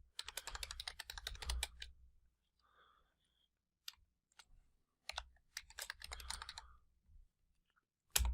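Bursts of quick keystrokes on a computer keyboard as a file name is entered, close and crisp, with pauses of near silence between runs of typing and no voices.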